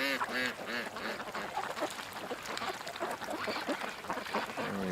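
Ducks bathing and cleaning themselves in water raise a dense, loud chorus of overlapping quacks and honks, close by and continuous throughout.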